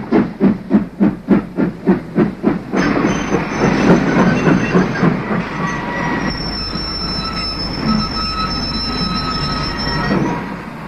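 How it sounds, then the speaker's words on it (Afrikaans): A train arrives at a station with loud rhythmic wheel clacks over rail joints, slowing into squealing brakes and screeching metal, close and dominant. "Jouw trein komt nu, daar kom je aan de andere kant."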